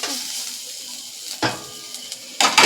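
Chopped onion fries in oil in a pan while cooking a topse fish curry, a close, bright sizzle with a couple of sharp bursts as the pieces are stirred or more go in.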